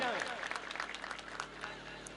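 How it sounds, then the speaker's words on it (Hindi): An audience claps at a fair stage show, with scattered applause and crowd noise running through a loud, reverberant mix that sits under an announcer's voice. "एक जोरदार तालियां बजाएं"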